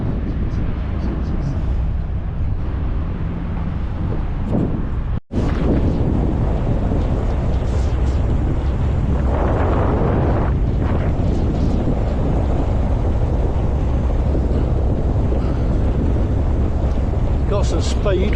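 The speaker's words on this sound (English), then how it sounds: "Got some speed when it gets going," A boat engine on a river near Brisbane powers up, a loud steady low-pitched drone mixed with wind rumble on the microphone, holding strong throughout with one brief dropout.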